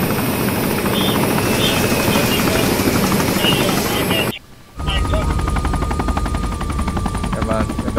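A helicopter in the Arma 3 video game makes a loud, steady rotor drone that cuts out briefly and then returns, with players talking over it.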